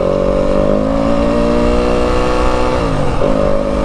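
A 2025 Yamaha WR250F dirt bike engine lugs low in second gear on an Arizona desert ride, a steady loud drone that stays close throughout and falls briefly around the three-second mark, with no talk.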